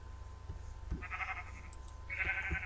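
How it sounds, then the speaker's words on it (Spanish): Video-game sheep bleat in short nasal cries, two distinct calls over a quiet background with faint low clicks and thumps between them, no talking. "Voy a matar todas las ovejas que pueda."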